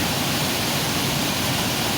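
Steady, dense roar of the Canikdere waterfall in Tonya, Trabzon, foaming down about 14 metres, a constant rushing hiss of falling water with no pauses, heard close and fairly loud.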